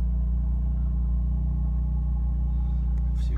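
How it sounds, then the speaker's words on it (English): A car engine idles just after a keyless start, a steady low rumble with a smooth, even hum heard close and alone, and a brief faint rustle near the end. "this is probably one of the most important things for you, the noise of the vehicle."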